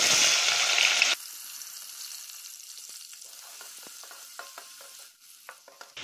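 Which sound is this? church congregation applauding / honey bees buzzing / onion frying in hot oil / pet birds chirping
onion frying in hot oil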